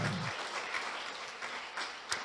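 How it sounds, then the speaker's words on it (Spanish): A church congregation gives applause during a sermon, a soft, even wash of many clapping hands heard fairly distantly, with a sharper clap near the end. "Dele un aplauso fuerte a Dios por su palabra"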